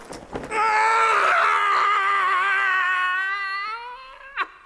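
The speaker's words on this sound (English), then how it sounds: "The regular early morning yell of horror" A man's long, loud yell of horror on waking, a sustained strained cry in a comedic radio drama, held for about three seconds before tailing off, followed by a brief sharp noise.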